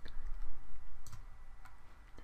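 A few sharp mouse clicks while selecting an area on a digital map, close and distinct, each a brief tick separated by quiet gaps with no talking.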